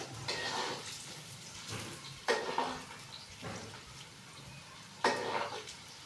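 Onions frying in a pan for a rice dish give a steady close sizzle, broken by a few loud scraping stirs of a spoon against the pan, with no talking.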